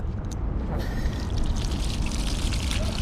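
Water pours out in a steady, noisy rush that continues throughout, close and fairly loud.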